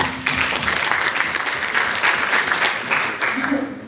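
An audience at a public speaking competition claps together in a steady, fairly loud burst of applause lasting a few seconds, with a faint voice near the end.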